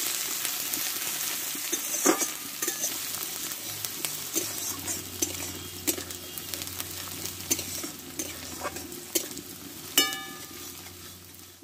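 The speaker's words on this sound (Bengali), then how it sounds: "পেঁয়াজটা আমি একটু ভালো করে ভেজে নেব।" Chopped onion frying in hot oil in a pan, a low continuous sizzle broken by occasional spoon scrapes and light knocks, close and fairly quiet with no talking.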